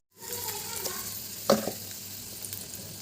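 Four dried red chillies drop into hot oil with mustard seeds, chana dal and urad dal for a mango coconut pickle tempering, raising a steady moderate sizzle with a sharp clatter midway.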